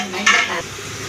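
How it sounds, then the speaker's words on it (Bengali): Goat meat cooking in a pot on a stove, with a brief stir and sizzle and a scraping clink of a utensil against the pot. "চুলায় চলছে খাসির মাংস।"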